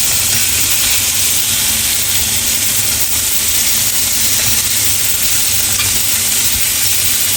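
Chicken piccata pieces frying in a pan, a loud, dense, unbroken sizzle and hiss close up throughout.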